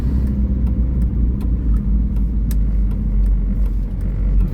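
Steady engine and road rumble from a Volkswagen T4 van driving along, with a continuous low drone and faint ticks over it and no voices.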